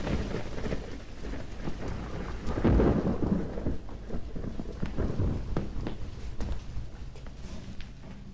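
Steady rain pours down with rumbling thunder rolling through it, a swell of heavier thunder near the middle, continuous and fairly close with no talking.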